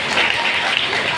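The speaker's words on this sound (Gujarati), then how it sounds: "જોરદાર તાળીથી વધાવો." A short, dense burst of crowd clapping at a Rajput community get-together and felicitation ceremony, loud and even throughout.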